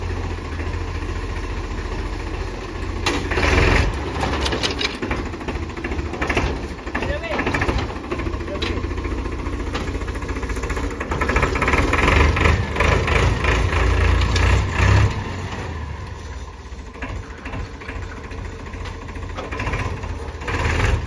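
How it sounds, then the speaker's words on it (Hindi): A farm tractor engine that has sat unstarted for many days runs at a steady idle, a continuous low rumble with vibration throughout, and people talk over it. "अभी ट्रैक्टर स्टार्ट करके देखते हैं भाई, बहुत दिन से ये भी स्टार्ट नहीं हुई है।"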